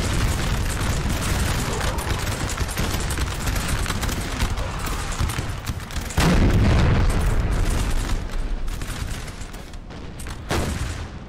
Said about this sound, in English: especially with the artillery just pummeling this coalition line